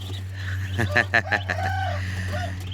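Chickens cluck and a rooster crows nearby in a loud, rhythmic burst of calls, with farmyard background.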